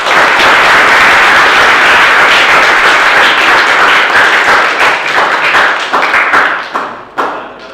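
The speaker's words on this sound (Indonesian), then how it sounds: "Mari kita berikan tepuk tangan sekali lagi" Audience applause closing an academic presentation session, dense and loud at first, then thinning into scattered individual claps before fading out.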